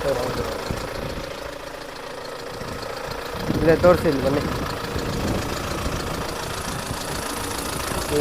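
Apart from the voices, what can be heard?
2.2 litre car engine idling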